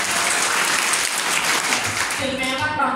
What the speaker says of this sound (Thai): ปรบมือให้หน่อยสิ